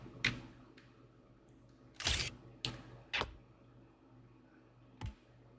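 Several sharp camera shutter clicks in the video game Forza Horizon 6, spaced irregularly over a few seconds, crisp and close against a quiet background.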